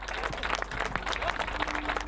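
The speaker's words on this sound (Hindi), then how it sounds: "फिर से तालियों का उत्साह।" Audience applause at a poetry recital mocking political rallies, a brief, fairly faint spell of clapping with crowd noise and a low hum underneath.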